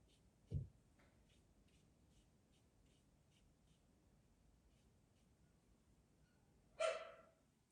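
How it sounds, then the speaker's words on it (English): A dog at home barking to be let in: two short, faint barks several seconds apart in an otherwise quiet room. "the dog wants to come in."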